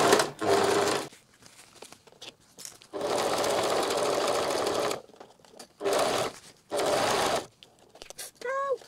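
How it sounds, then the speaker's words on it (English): Domestic sewing machine stitching a welt pocket onto a garment, heard as loud bursts of whirring motor and needle action separated by pauses, with brief speech in between. "Place it under the sewing machine and simply sew it on"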